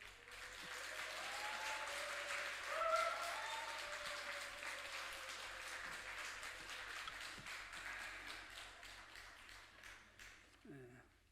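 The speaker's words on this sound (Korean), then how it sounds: "나오실 때 큰 박수로 환영해 주십시오" A church congregation at an afternoon dedication service gives sustained applause, with steady dense clapping across the whole stretch, swelling briefly and then tapering off near the end. Faint voices mix in.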